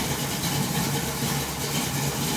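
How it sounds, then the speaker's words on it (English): A rebuilt 1980 Chevy C10 engine with a Comp Cams Thumpr camshaft and flat tappet lifters idles close by with a steady, rumbling, lumpy tone. "Got the comp cam thumper going there."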